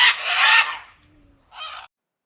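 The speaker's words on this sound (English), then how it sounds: "Parrots squawk." A parrot squawking, two harsh calls: a long loud raucous squawk, a pause, then a shorter squawk, close and alone.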